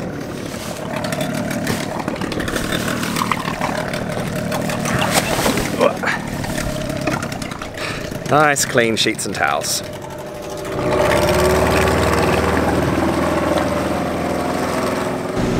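Outboard engine of a laundry delivery boat in the Caribbean runs at a steady drone under talk and background noise, then grows louder and fuller near the end as the boat pulls away.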